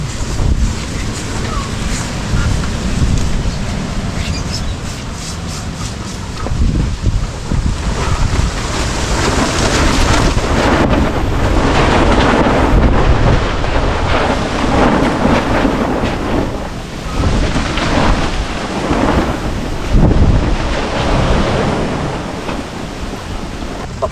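Strong gusty wind buffeting the microphone in loud, roaring waves, with rumbling surges rising and falling over the whole stretch.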